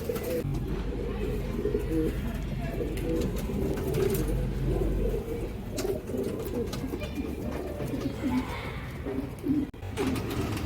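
Domestic pigeons in a breeding loft coo repeatedly up close, soft throaty calls overlapping in an uneven rhythm over a low steady background rumble.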